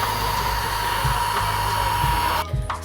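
A hair dryer dries dreadlocks with a loud, steady close whoosh and whine. The roar cuts off abruptly near the end.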